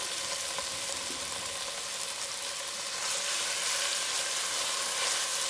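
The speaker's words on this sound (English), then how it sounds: "And I'm just going to saute that." Finely chopped onion sautés in olive oil in a pan for a chicken chili, giving a steady, close sizzle and hiss that swells slightly partway through, with no talking.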